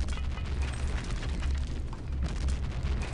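Grenade explosions in the shooter game Wolfenstein, heard as a dense, continuous rumble of blasts and crackling debris with low booming underneath, steady and fairly close throughout.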